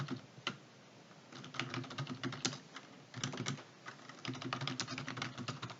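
Keys clatter on a computer keyboard while entering data into an Excel spreadsheet, heard as close, quick bursts of typing broken by short pauses.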